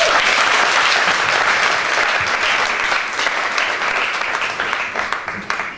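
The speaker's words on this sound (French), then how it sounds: "sous vos acclamations" Crowd of young people applauding at the opening of a zonal youth Bible camp in Kamsar, loud continuous clapping that gradually tapers off over several seconds.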